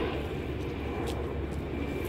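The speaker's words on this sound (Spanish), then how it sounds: "Helicóptero, de hecho." A helicopter flies overhead, heard as a steady, loud rotor and engine drone with a faint rhythmic pulsing throughout the short stretch.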